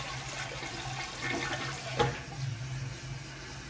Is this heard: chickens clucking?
no